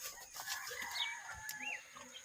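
Native and Rhode Island Red hens cluck and give short fowl calls, quiet and close, one after another over a soft farmyard background.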